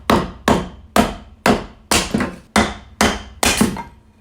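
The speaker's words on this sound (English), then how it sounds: "This is my first time splitting wood" Firewood being split for a fireplace: eight sharp, heavy strikes land at an even, steady pace, each hit ringing briefly before the next, close and loud with no talking.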